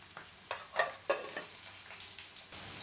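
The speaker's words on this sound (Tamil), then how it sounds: "ஒன் சைடு ஃப்ரை ஆன பிறகு மெதுவாக திருப்பி போட்டுக்கோங்க." Masala egg pieces frying in a pan, a soft sizzle with several light taps and scrapes as the pieces are turned, close but quiet, with no talking.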